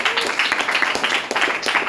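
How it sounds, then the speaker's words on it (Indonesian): A classroom group claps together in a brief burst of applause, many hands patting quickly and unevenly, fairly close, with some voices mixed in. "Tepuk tangan buat kalian semuanya"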